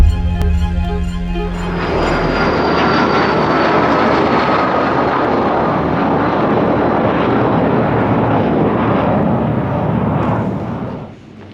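Airplane engine roaring near a runway on the Costa del Sol in Andalusia, a loud, broad, sustained rush that swells in after a brief quieter start and fades away at the end.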